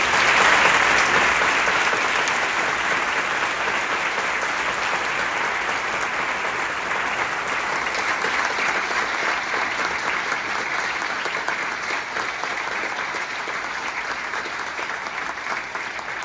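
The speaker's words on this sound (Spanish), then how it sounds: "por favor, un aplauso." Sustained applause from a congregation at a funeral mass, loud at first and holding steady before easing slightly, with no talk over it.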